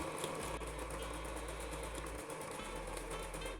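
A domestic sewing machine stitching a seam and backstitching sews in a quiet, steady mechanical hum with rapid rhythmic ticking of the needle, heard alone.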